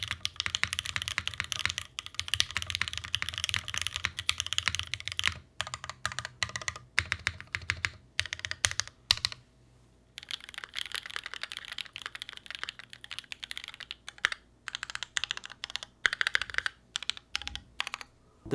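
Typing on a Freebird TKL mechanical keyboard gives a rapid, close run of clacky keystrokes in busy bursts with a few short pauses, slightly hollow in tone and heard alone without voices.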